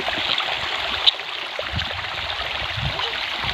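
Clean mountain stream water rushing over rocks, a steady broadband flow that stays even and fairly close throughout, with one small splash or click partway through.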